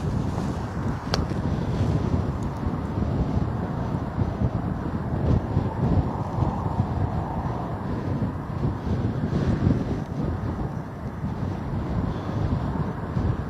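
Gusty wind buffets the microphone at Bristol Airport, a constant loud roaring rush with surging gusts throughout, broadband and unbroken, with no voices heard.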